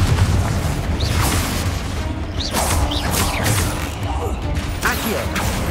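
Confringo fire spell blasts in Hogwarts Legacy during a spider nest fight, a dense rumbling barrage of booming impacts and crackling bursts repeating every second or so, with no break between casts.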